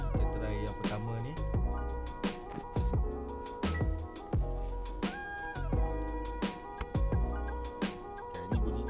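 Perodua Ativa turbo turn signal chime, the first tone type, a steady rhythmic series of sharp ticks repeating about twice per second inside the car.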